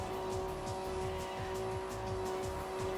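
Race cars in Tokyo Xtreme Racer 3 on PS2 drone steadily with a constant engine hum, faint tire and road noise rippling underneath, all at an even level throughout.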